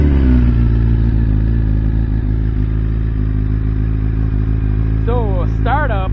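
BMW S1000RR fitted with Akrapovic headers and a GP shorty muffler idling loud and close right after a cold start, a steady, heavy rumbling drone with a few brief chirping sounds near the end.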